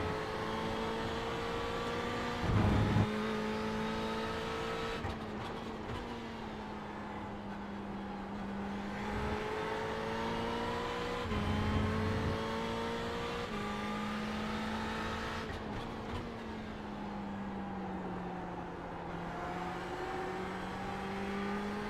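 A Ferrari 488 GT3 race car laps Watkins Glen in a racing game, its engine droning steadily in the cockpit view, with repeated upshifts and several drops in pitch on braking over about twenty seconds, and no one talking.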